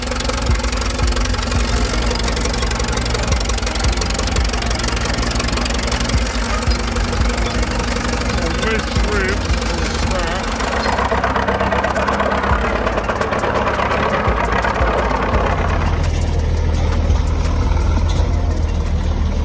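A 4-cylinder 3.7-litre diesel engine of a Cletrac Model AD crawler tractor runs steadily and loudly throughout, with a knocking, rumbling idle that changes tone partway through, and no talking.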